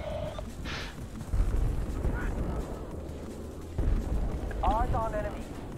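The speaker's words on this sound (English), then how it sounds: "that dude is throwing a grenade" Within a Battlefield: Bad Company 2 match, grenade blasts land as low, heavy booms among rumbling battlefield noise, with two bursts standing out about two seconds apart and brief voice sounds over the din.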